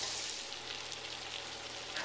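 A steady, dense sizzle of vegetables frying in bacon grease in a pan, close and continuous.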